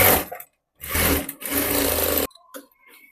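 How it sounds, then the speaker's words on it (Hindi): A sewing machine stitches the neckline of a blouse in two loud, continuous whirring runs separated by a short pause, then falls to a faint hum and small handling noises. "इसमें गले पे सिलाई लगाऊंगी। तो मैं 1/2 इंच का सिलाई लगा रही हूँ।"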